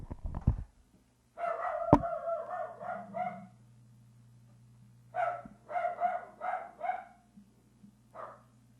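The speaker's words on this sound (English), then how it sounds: "My dog was barking at some kids in the front." A dog barks in the background at kids out front, in two bursts of rapid, repeated barks with a pause between them, fairly loud and with no talk over them.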